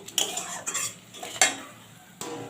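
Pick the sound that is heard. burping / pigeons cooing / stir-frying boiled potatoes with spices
stir-frying boiled potatoes with spices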